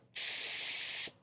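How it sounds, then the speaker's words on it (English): An HVLP paint spray gun, used for painting an arcade cabinet, gives one steady, close hiss of spray that lasts about a second and then cuts off cleanly, with no voices over it. "So let me give a little spray here."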